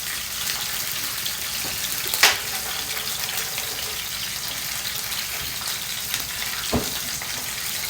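Beef and pork frying in a pan, a steady even sizzle with a faint clink or two, close and alone with no voices.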